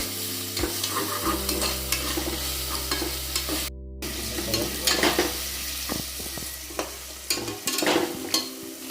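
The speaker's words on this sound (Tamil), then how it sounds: "தக்காளி வெங்காயத்தை நல்லா வதங்கி எடுத்துக்கலாம்." Tomatoes and onions sautéing in a pan for crab gravy, a steady close sizzle with frequent stirring scrapes and clatters throughout, no voices.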